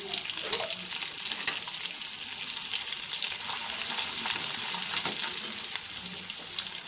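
Ginger and turmeric fry in a pan for a mixed vegetable curry, giving a steady close sizzle with faint scrapes of stirring, alone without talk.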